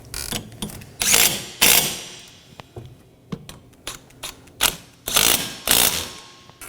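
A hand ratchet snugs down two 14mm nuts on the front engine torque strut mount of a 2015-2023 Nissan Maxima 3.5L V6, with bursts of rapid clicking separated by short pauses, close and clear with no talking.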